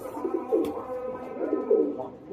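Soft, low pigeon coos repeat in rolling phrases, close and steady, with a faint click partway through.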